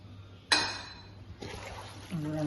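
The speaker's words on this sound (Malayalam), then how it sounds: "കുറച്ചിതാ സൺഫ്ലവർ ഓയിൽ ഒഴിച്ചു കൊടുക്കാം" Sunflower oil is poured into a pot while Hyderabadi biryani is being made. The pour starts sharply with a short clink of a container against the rim, then trickles on softly at close range, and a brief spattering sound follows near the end.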